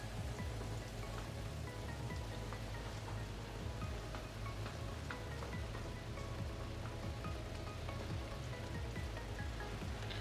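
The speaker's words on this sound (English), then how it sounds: "Can't hear anything with the freaking rain." Steady, dense video game rain pattering on a surface, constant and fairly loud, with a faint wash underneath and no voices.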